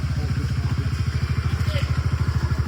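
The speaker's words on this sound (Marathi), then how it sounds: "भाऊ आणि मी बाईक घेऊन चाललोय" A motorcycle carrying two riders on a long-distance road trip toward Airoli, its engine thumping in a fast, even rhythm close to the microphone, steady and unbroken, with no one speaking.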